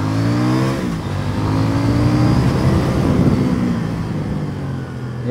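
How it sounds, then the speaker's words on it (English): A CF Moto NK800 naked motorcycle engine revs hard as the throttle is twisted, a loud close roar with rising and falling pitch sustained throughout. "I twist the throttle, I feel so happy about it."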